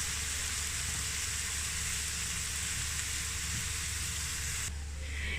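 Chopped medium onions fry in a pan with a steady, close hiss of sizzling that eases slightly near the end.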